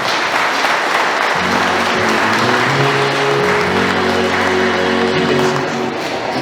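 Hearty applause breaks out for a newlywed couple at a wedding, dense clapping from a crowd that swells after a short quiet start and carries on steadily with low voices murmuring underneath.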